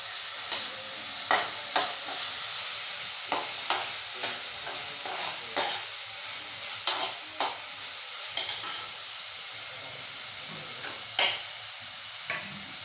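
Tomato and coriander sautéing with onion in a pan: a steady oil sizzle broken by sharp, irregular clicks of a spatula stirring and scraping against the metal, close and fairly loud with no talking.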